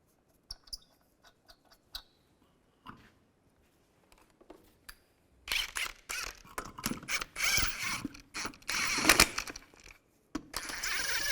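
Lug nuts are ratcheted onto a wheel of a 2005-2010 Chevrolet Cobalt, starting with sparse metallic clicks and creaks, then a dense, rapid ratcheting burst up close during the second half.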